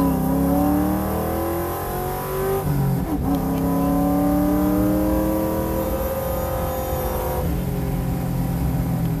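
A 2001 Ford Mustang GT with full bolt-ons accelerates hard on a quarter-mile run while struggling for traction. The engine revs loudly and climbs through the gears with sweeping rises in pitch and brief shift breaks. It sounds close and steady throughout.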